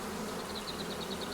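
Honeybees hum steadily at a Lemko apiary in Zdynia, a continuous close buzzing swarm with no voices over it.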